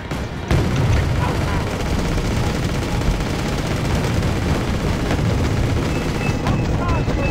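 Sustained barrage of weapons firing on command in a war strategy video game, a dense, loud rumble of overlapping shots and booms starting abruptly and continuing throughout.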